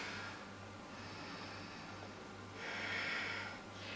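Soft, faint breaths drawn in and let out while a vinyasa yoga pose is held, with two broader exhales over a quiet low hum.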